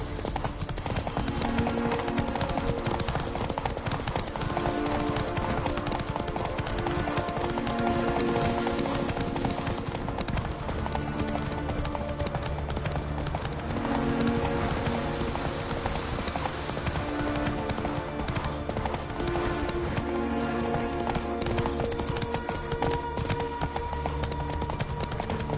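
Horse hooves galloping in The Witcher video game, a rapid clip-clop rhythm that runs steadily under a music score for the whole stretch, with an occasional snort or whinny.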